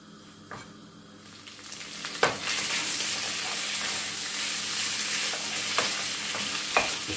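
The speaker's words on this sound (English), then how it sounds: "I'm going to cook that for about a minute and a half on both sides to make sure it's brown" Liver frying in a pan on rising heat, a quiet start that swells into a steady loud sizzle with a few sharp clatters and pops; close, with no talking.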